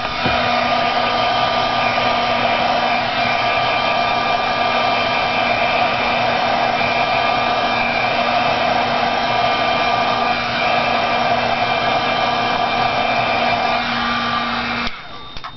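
A heat gun blows hot air onto plastic tags, a steady, close whooshing hum with a constant motor tone that runs unbroken for about fifteen seconds before cutting off.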